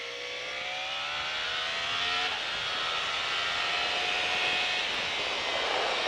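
A go-kart engine accelerating on the Mettet track, a loud, close buzzing whine rising steadily in pitch as the kart comes out of a corner, with wind noise and no talk.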